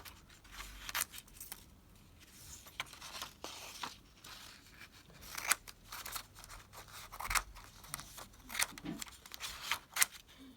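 Scissors snip through folded paper, cutting off two strips in a run of quick, crisp, close cuts with faint rustling between snips, no talking.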